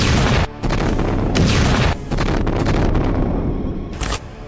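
Explosions from a US military strike on Kharg Island, Iran, roar loud and near as a continuous booming rumble broken by several sudden blasts, with no voices.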